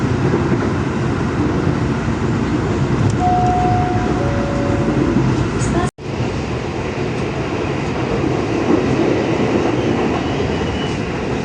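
A KRL commuter train rides between Jakarta stations, its loud steady interior rumble of wheels and carriage noise continuous throughout, with a brief pair of tones partway and a short dropout near the middle.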